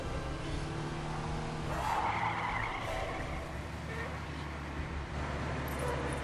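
A car drives and skids in LEGO Jurassic World, its engine droning steadily as the tires squeal in a loud screech midway, with a game soundscape underneath.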